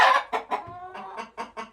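Chickens and roosters clucking in a series of short, bright bursts with a brief sustained call in the middle, close and fairly loud, no talking.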